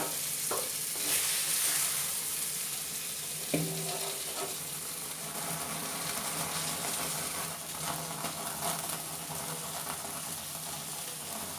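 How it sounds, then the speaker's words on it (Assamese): Chicken pieces for tandoori chicken sizzle steadily in a frying pan, a continuous close hiss with occasional clunks and stirring sounds, no talking. "তো এতিয়া আমি এই চাঙলিখনত চিকেন পিচকেইটা দি দিম।"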